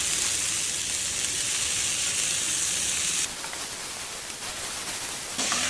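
Onion, green chilli and washed drumstick flowers sauté in a little oil for a drumstick-flower omelette, making a loud, continuous close-up sizzle that eases slightly partway through and then swells again at the end.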